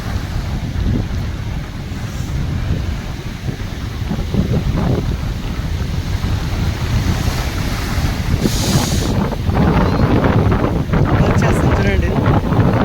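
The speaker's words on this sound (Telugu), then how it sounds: "అలలు మన కాళ్ళకి తగిలే క్షణం మాత్రము ఎవ్వరు మిస్ చేసుకోకూడదు" Sea waves wash onto a beach in a steady, loud roar of surf with heavy wind buffeting the microphone throughout, growing stronger toward the end.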